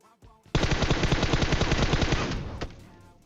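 Sustained automatic gunfire in PUBG Mobile aimed at a vehicle, a loud rapid burst of several seconds that cuts off abruptly, with no talk over it.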